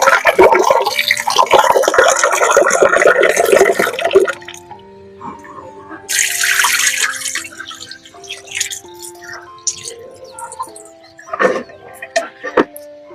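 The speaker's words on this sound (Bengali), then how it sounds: "আমি এখন চাউলগুলোকে একটু ধুয়ে নিব প্রথমে।" Rice being washed under running water: a few seconds of steady tap water pouring and splashing up close, followed by intermittent sloshing, dripping and handling sounds with pauses between.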